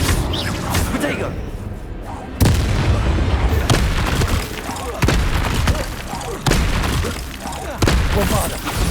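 Bombarda spell explosions in the video game Hogwarts Legacy: several loud, close booming blasts at irregular intervals over a continuous din of combat effects.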